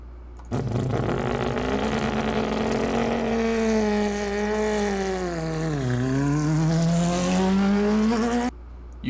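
A car engine in My Summer Car revving continuously, its tuned motor droning and rising in pitch, dipping briefly before climbing again, loud and close with no talk.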